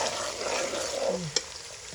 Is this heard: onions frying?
yes